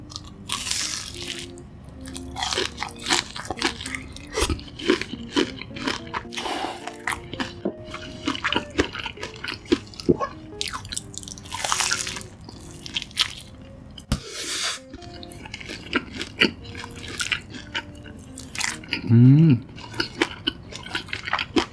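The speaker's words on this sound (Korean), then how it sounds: "오늘 핫도그는 설탕 대신에 토종꿀을 뿌려서 먹어보겠습니다." A hot dog drizzled with native honey instead of sugar is eaten close to the microphone, with crisp crunching bites, sticky squishing and wet chewing that come in irregular bursts separated by quiet pauses.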